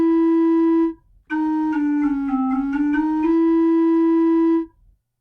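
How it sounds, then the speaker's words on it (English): Chamber organ sample cleaned with Audacity noise reduction: a sustained organ tone that briefly stops and restarts, holds a chord with shifting inner notes, then releases into a short fading tail near silence. "With only the noise reduction of Audacity it sounds like this."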